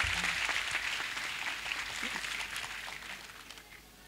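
Congregation at a church service clapping loudly together, a steady dense wash of applause that holds for several seconds with faint voices mixed in.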